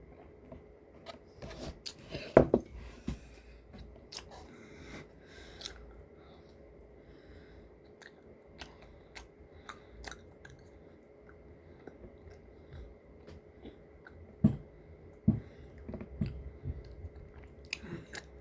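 Close, soft chewing of tiramisu cake with sponge, quiet moist mouth sounds and occasional clicks scattered irregularly across a quiet room, with a few sharper bites standing out.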